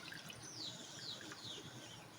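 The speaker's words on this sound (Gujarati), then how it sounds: "તો 2 કપ પાણી આપણે એડ કરી દઈશું." Water poured into a cooking pot to make rice flour dough for chakri, a steady faint trickling stream with no voices.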